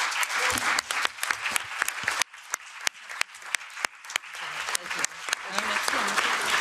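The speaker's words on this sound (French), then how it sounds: "Donc merci de les applaudir pour les remercier d'être avec nous." Audience applause at a conference on deep-sea mining at the European Parliament, a dense wash of clapping with scattered louder claps and a brief dip midway before swelling again, heard close and fairly loud.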